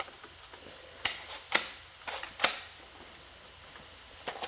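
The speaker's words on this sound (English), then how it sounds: "we're going to go ahead and pull the bolt back to the rear" A rifle bolt is drawn to the rear and run forward to chamber a round, giving several sharp, close metallic clacks and clicks spaced across a few seconds over quiet room tone.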